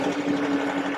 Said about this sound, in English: Tractor's in 4-wheel drive.